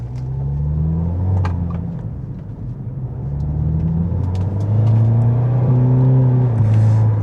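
An Audi car's engine runs steadily while driving, a close, continuous low rumble with gentle rises and falls in revs and a firmer, louder stretch near the end, with no talking.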